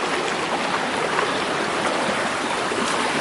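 Water running steadily over wet, slippery rocks in a mountain stream, a continuous broadband rush and trickle that stays close and even throughout, with no voices.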